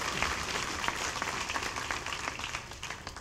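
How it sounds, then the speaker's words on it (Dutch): Steady applause from a crowd, a dense wash of clapping that keeps going throughout. "Geef hem een applaus"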